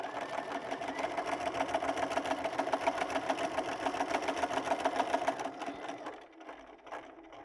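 A sewing machine runs steadily while stitching quilt pieces, a close rapid rhythmic whirr lasting several seconds before slowing and stopping, then quieter handling.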